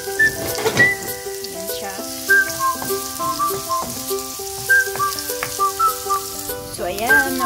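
Ginger sizzles as it fries in a pan for a dish of sweet potato leaves with sardines, a steady crackling hiss under prominent background music, with a brief spoken remark.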